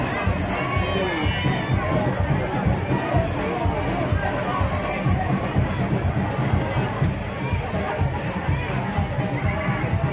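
Dense crowd noise at the Pahiyas Festival parade in Lucban, Quezon, with people shouting and cheering in a continuous loud babble that holds steady throughout.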